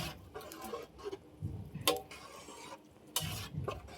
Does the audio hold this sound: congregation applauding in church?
no